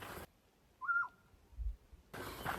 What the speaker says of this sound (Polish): Jeśli są tu jacyś miłośnicy ptaków, to naprawdę tutaj będzie wyżerka, bo każdy jeden dźwięk jest dla mnie nowy.